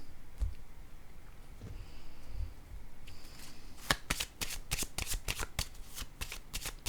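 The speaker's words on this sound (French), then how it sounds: "Je vais déposer une carte sur celle-ci." Tarot cards shuffled and laid down, soft low rustling at first, then from about four seconds a rapid run of crisp riffling slaps and clicks, close up with no speech.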